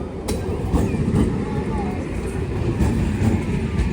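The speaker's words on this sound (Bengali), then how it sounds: "তো এই ট্রেনে উঠে পড়েছি" Interior of a moving train on the way to Kalyani and Kanchrapara, a loud steady low rumble with faint rhythmic clatter throughout.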